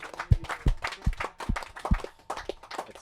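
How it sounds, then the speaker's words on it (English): A small group clapping for a crew member on a sail-and-spearfishing trip on the Great Barrier Reef, with uneven, scattered claps and heavy thumps amid a busy, close mix. "Another round of applause for Blaze"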